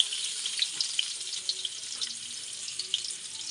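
Garlic fries in a pan with a steady, bright, close sizzle, broken by small crackling pops.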